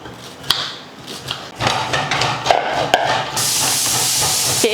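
A loud, steady hiss of steam venting from a pressure cooker whistle takes over partway through, following assorted kitchen clatter and knocks.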